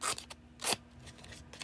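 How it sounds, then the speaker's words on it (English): Paper snips cutting along the edge of a paper card to rough it up, a few crisp snipping strokes up close and spaced unevenly, with no talking. "I'm going to take my paper snips, and I'm just going to go along the edge"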